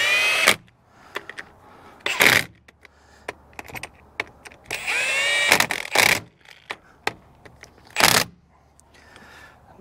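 A power tool runs in several short bursts, tightening the bolts that hold a pump down against its preload spring on a Bobcat machine during a repair. Clicks and handling noises come between the bursts.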